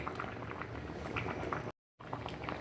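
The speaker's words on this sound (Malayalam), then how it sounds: "കണ്ടോ വാങ്ങി വെച്ചിട്ട് തിളയ്ക്കുന്നുണ്ടോ ഇതാണ് നമ്മുടെ കൽച്ചട്ടിയുടെ ഗുണം" A curry in a stone pot, just taken off the heat, keeps bubbling in a steady close simmer with soft popping, briefly cut to silence near the end.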